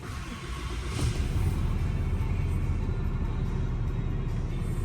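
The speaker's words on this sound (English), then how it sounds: "Let's start the truck." A Ram 3500 pickup truck engine turns over and settles into a steady, loud, close idle rumble that holds for several seconds with no talking.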